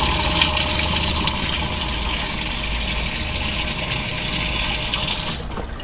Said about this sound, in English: and then we'll turn the recirculating valve on.